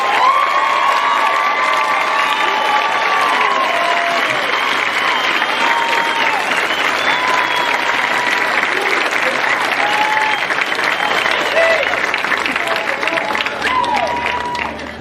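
Sustained applause for the faculty at a 2019 Sierra Nevada College Tahoe commencement ceremony, a loud, dense crowd clapping steadily for about fifteen seconds with some cheers and shouts mixed in.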